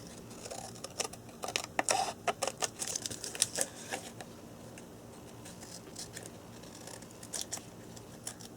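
Scissors snip through paper while a library pocket booklet is trimmed, giving a run of close, quiet, irregular cuts that thin out toward the end.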